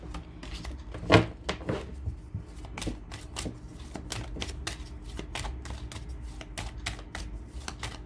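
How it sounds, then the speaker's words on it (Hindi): Tarot cards are shuffled and drawn from a deck with a burst of close papery riffling. Quick flicks and soft taps follow at a steady pace. "लास्ट कार्ड निकाल रहे हैं"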